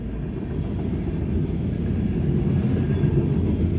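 A train rolls past with a steady low rumble and faint rhythmic rattling of railcars, continuous and fairly loud.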